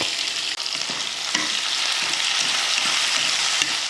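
Urad dal, onion, green chilli, garlic and tomato sauté in a pan with a loud, continuous sizzle, and a spoon or spatula stirs and scrapes now and then, with no talking.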